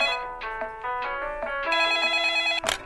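A telephone rings after a number is dialed out in a video game, a bright electronic ringtone pattern of repeated chiming tones, close and clear, ending with a short click.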